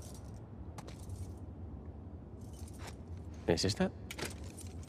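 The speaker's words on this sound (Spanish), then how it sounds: "¿Pruebas las llaves?" Keys jangle and scrape as they are tried in a lock in The Last of Us Part II, a brief close metallic rattle in a quiet room, with short speech beforehand.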